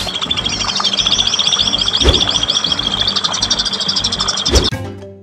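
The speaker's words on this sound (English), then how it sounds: "At deHakims Aviary, we have a pair of blue-winged leafbirds." Blue-winged leafbirds in an aviary chirp in quick, rapid trills close by, the bright calls repeating over a constant background, with a couple of sharp knocks near the end.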